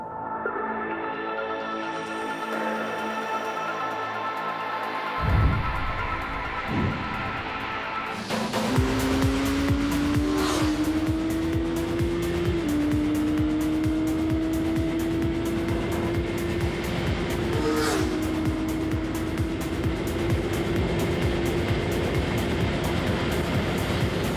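A 22-year-old Suzuki Hayabusa motorcycle at high speed on the straight of the Paul Ricard circuit, its loud engine note climbing steadily through the gears after a rough, quieter opening.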